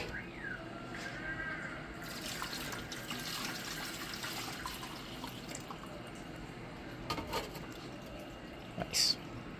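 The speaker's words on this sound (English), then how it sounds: "we're just going to keep flushing that out till it flows clear every time I dump water in it" Water poured into the drain of a 1993 Plymouth Grand Voyager SE, abandoned for 18 years, flushing dirt through with a steady trickling, splashing wash and a few brief louder splashes near the end.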